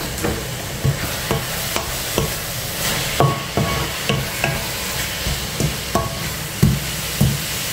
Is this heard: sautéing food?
yes